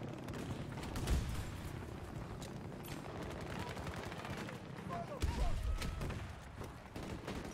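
Gunfire rattles through a Battlefield 2042 match in repeated bursts and scattered shots, some close and punchy and others farther off, under a busy layer of battle noise.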